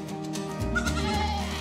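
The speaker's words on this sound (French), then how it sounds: "La chèvre, elle est avec toutes les autres chèvres." Goat bleating at an animal park, a single sustained wavering bleat with strong harmonics, loud and close, over low ambient rumble with no talk.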